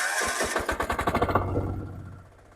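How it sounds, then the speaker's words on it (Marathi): A power weeder's small engine, a walk-behind rotary tiller, cranks with a rapid sputtering burst of close pulses, then settles into a steadier running hum that fades slightly. "तुम्ही बघू शकता ट्रॅक्टर चालू करायला सुद्धा किती सोपं आहे"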